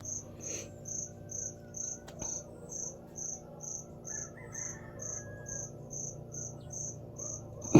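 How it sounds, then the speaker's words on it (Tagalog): Loud, steady cricket chirps repeat in an even pulsing rhythm from a cricket hidden inside a small store, close and persistent with a faint low hum beneath and a brief knock near the end. "napakaingay ng kuliglig"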